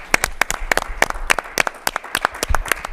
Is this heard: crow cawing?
no